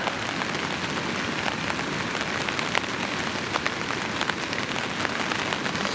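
Steady rain falls on the ground around a hunting camp in Alaska, a dense, even patter of close drops with no talking.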